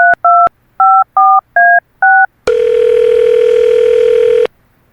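Six short touch-tone beeps from a telephone keypad as a call is dialed, followed by a steady, loud ringback tone lasting about two seconds before it cuts off.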